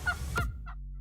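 A wild turkey in spring hunting season gives two short gobbling calls, the first louder and the second softer and shorter, heard outdoors without talk.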